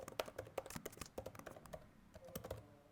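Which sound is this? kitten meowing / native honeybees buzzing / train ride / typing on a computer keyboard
typing on a computer keyboard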